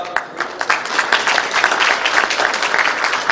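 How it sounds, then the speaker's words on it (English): An audience at an architects' dinner night applauds, a dense, lively patter of many hands clapping close by, building slightly and continuing steadily throughout. "Let's have a round of applause for all of them."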